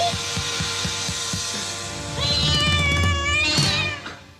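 A cat meows in the comedy film Problem Child, letting out a couple of drawn-out, wavering cries up close over a steady background with rhythmic low thumps at the start.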